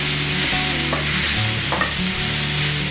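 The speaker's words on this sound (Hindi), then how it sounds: "2 मिनट मसालों को अच्छे से भून लीजिए।" Masala spices for bhuni arbi sizzling loudly in a pan, with constant stirring and scraping of a spoon against the metal, close and continuous.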